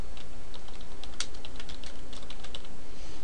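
Steady close-up typing on a computer keyboard, a rapid irregular patter of key clicks with a few sharper strokes, no voices.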